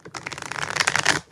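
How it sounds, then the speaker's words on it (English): Tarot cards are riffled in one quick shuffle, a close, rapid burst of flapping card clicks lasting about a second. "3 more shuffles."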